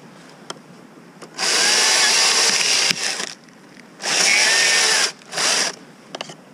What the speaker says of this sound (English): we got the battery saw. Let's try it out.